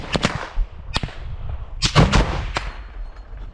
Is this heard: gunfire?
yes